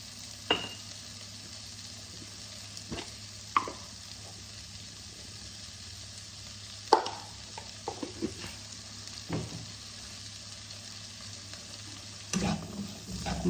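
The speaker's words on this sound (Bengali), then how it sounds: "লাল লাল করে ভেজে নেব।" Poha with a little turmeric and salt fries in a pan, a soft steady sizzle broken by occasional scraping stirs and clinks of a spatula against the pan.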